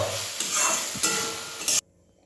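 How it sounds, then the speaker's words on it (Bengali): Pasta being stirred into a spice mix in a pan: continuous scraping and sizzling for under two seconds, close and loud, ending abruptly in near silence. "আমি এই মশলাটার সাথে পাস্তাটাকে মিশিয়ে নেব।"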